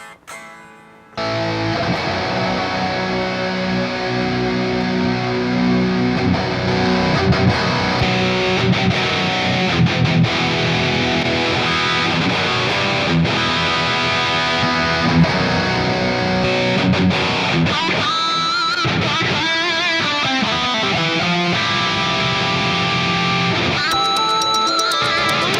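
An electric guitar runs through distorted effects tones, playing a sustained, dense stream of chords and notes that continues loud and unbroken for about twenty-five seconds, with no talk over it.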